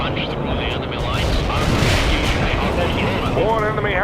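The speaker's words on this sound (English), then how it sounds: "As you can see, it's all explosions all around." Dense, continuous rumble of explosions and artillery fire in the World in Conflict: Soviet Assault strategy game, booming steadily throughout with game radio voices speaking over the battle noise.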